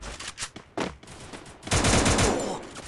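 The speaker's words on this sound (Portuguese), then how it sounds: "É os tiros que eu tô falando pra vocês." Bursts of gunfire crack in quick succession in the game Free Fire, then a dense, sustained volley of rapid shots rattles on loudly.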